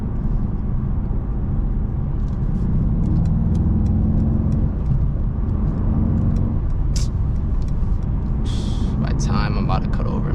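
Mercedes E63s sedan cruising through sunset traffic, a steady low engine and road rumble carrying throughout with brief hissing bursts near the end, no talking.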